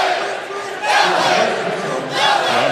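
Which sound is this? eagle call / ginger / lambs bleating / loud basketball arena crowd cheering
loud basketball arena crowd cheering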